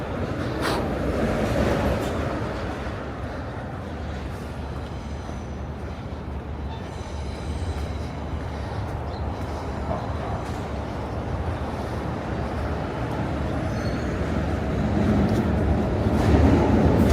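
A train rumbles past nearby on a bridge in Manhattan, New York City, a loud, sustained roar of wheels on rails with faint metallic squeals, swelling toward the end.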